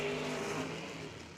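A Mustang drag car roars off the line at an amateur drag race, a loud broadband engine blast with a low rumbling tone that fades slightly over a second and a half.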